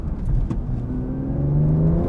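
A manual BMW M2 engine accelerates with a steady, rising drone that swells slightly in pitch and loudness. It is heard close and continuous, with no talk over it.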